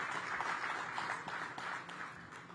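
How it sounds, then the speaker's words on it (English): An audience at a groundbreaking ceremony for a community space gives a sustained round of applause, with a dense, even clatter of many hands heard from a moderate distance. "give Red Brick a round of applause"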